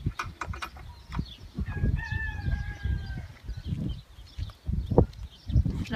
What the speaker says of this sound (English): Let's find the rooster.